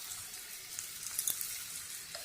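Mustard paste frying in a pan for a Bengali ash gourd dish, a quiet continuous sizzle with a few soft pops and clicks, heard alone at low level.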